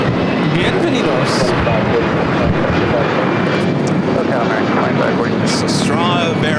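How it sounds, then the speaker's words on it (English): An Aeromexico Boeing 787-8 Dreamliner arrives at LAX, a loud sustained engine roar running throughout while people talk over it. "Aeromexico 646 coming in from Mexico City on a 787-8 Dreamliner."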